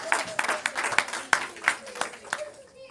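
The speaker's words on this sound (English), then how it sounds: "big round of applause to Sesapati Prabhu once again, please." An audience gives scattered clapping in a hall during a cultural centre scripture session, a few dozen hand claps with irregular peaks, heard alongside a talking voice.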